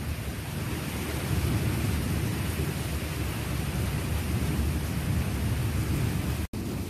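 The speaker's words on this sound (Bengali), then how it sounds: "খুব জোরে জোরে বিদ্যুৎ চমকাচ্ছে" Heavy rain pours in a dense, constant roar during a thunderstorm with frequent lightning, loud and unbroken apart from a brief cut near the end, with no speech.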